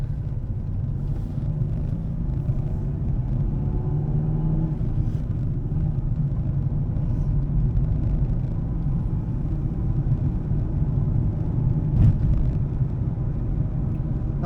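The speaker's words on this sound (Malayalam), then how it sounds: "ഇത് ഒരു റെനോൾട്ടിൻ്റെ വണ്ടിയാണ്. വാൻ തന്നെയാണ്" A Renault delivery van drives along a road in Sweden, its engine a steady low rumble with tyre and road noise holding level throughout, close and continuous with no talking.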